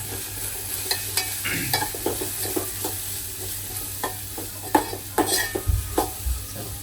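A masala mixture fries in a pan while being stirred, giving a steady sizzle broken by repeated spoon scrapes and clinks against the pan, close and fairly loud, with no talk.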